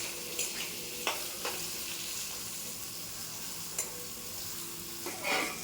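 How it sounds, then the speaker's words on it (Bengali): Potatoes with turmeric and salt fry slowly in a covered pan, making a steady, even sizzle with a few faint clicks and knocks, close and without talk. "আলুটা আস্তে আস্তে ভাজবো, চাপা দিয়ে দিয়ে"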